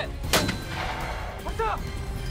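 Gunfire from marine corps firing training: a single sharp, loud report near the start over steady background rumble, followed by a faint shouted command.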